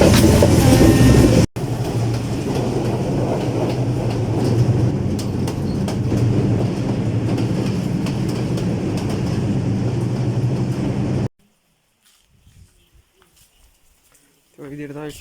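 A train at a railway station, a loud continuous rumble and clatter of rolling carriages for about ten seconds, cutting off into near silence before faint sounds return.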